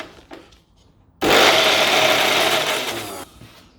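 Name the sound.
food processor blending chickpeas with oil and salt into hummus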